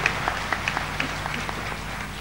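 An audience at a religious discourse gathering claps in scattered, uneven bursts over a background of room noise.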